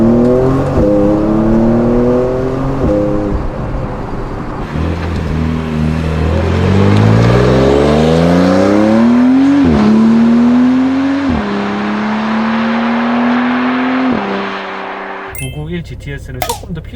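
A Porsche 911 992 Carrera 4S Cabriolet accelerates hard through several gears, its exhaust booming and rising in pitch with distinct drops at each upshift, loud and close before cutting off, with someone talking in the mix.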